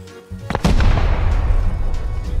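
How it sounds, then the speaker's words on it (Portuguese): An explosive charge detonates during a raid in the video game Rust, a single loud close blast that hits sharply and then rolls into a long rumbling decay. "Vai, bombinha, explode!"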